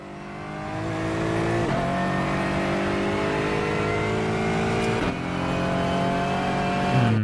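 V8 Aston Martin race car in the racing sim ACC, engine note rising steadily as it accelerates, with two gear-shift dips along the way, loud and unaccompanied by talk.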